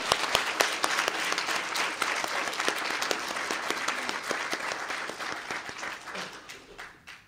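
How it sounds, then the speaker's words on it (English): An elementary school audience applauds at a student recognition event, dense, steady clapping from many hands that fades slightly toward the end. "Let's give him a round of applause for that."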